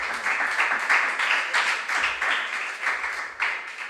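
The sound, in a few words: audience clapping for quiz contestants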